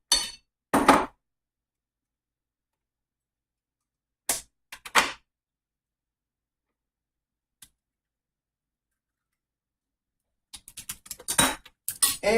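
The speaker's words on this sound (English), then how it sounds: "I'm going to break it in the plate." An egg is cracked onto a plate in a kitchen, with a few sharp clinks and a crack heard close by in short clusters, separated by long silences.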